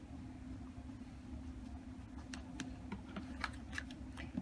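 A cutter trims a quilting fabric triangle along a ruler, giving faint, scattered clicks and scrapes over a low steady hum, sharpest in the second half.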